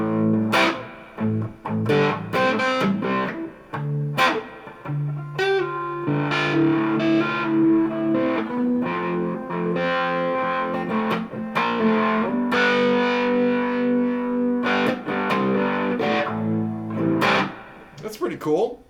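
Electric guitar played through a Keeley Mod Workstation modulation pedal with overdrive fed in, giving gritty distorted chords and single notes with wobbling modulation, in bursts separated by short gaps, loud and close.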